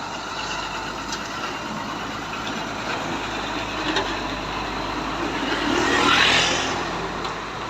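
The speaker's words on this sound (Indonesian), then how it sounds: "Bus sekolah kayaknya ini." A school bus rumbles along a badly damaged road near Tanjung Pura, giving a steady, rough engine and road noise that swells slightly toward the end, with no talking.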